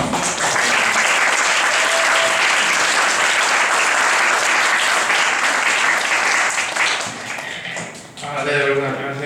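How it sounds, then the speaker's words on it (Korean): Audience applause at a team project presentation event, dense and steady for most of the stretch, then thinning near the end as a voice starts talking. "저희 손영조 선배 나올 때 큰 박수 부탁드립니다."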